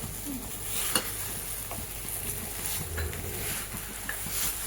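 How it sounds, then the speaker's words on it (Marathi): A garden cress seed and dry fruit mixture is stirred and roasted in a pan over low gas, with a soft continuous sizzle, faint scraping and occasional light clinks of a utensil against the pan. "कमी गॅसवर हे आपल्याला परतून द्यायचं आहे।"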